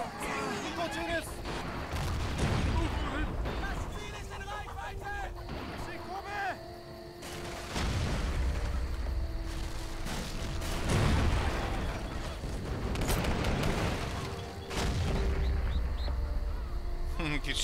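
Gunfire and explosions from the video game MOWA 2 come in repeated bursts and heavy booms, with players talking throughout between and over the blasts.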